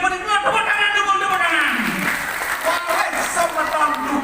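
Applause from an audience at a Balinese dalang and bondres performance, continuous clapping heard under someone speaking through a loudspeaker.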